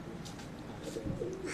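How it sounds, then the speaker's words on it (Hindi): Pagal Topi breed pigeons cooing softly at close range, low murmuring calls repeating over a steady ambient background. "high flyer pigeon union channel के ऊपर पागल टोपी कबूतर"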